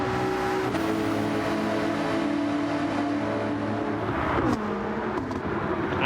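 GT3 race cars in a sim racing game accelerate side by side in a drag race down a straight, their engines droning loud and steady with rising, overlapping tones and a gear change near the end.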